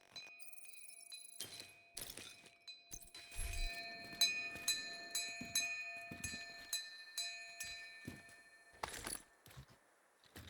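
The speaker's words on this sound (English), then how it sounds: "I think all this LMG does is like ring a bell when you shoot it" Bell-like chimes ring out from a named Turmoil light machine gun in The Division, with repeated clear tonal dings over a sequence of sharp shot transients, moderately loud and close.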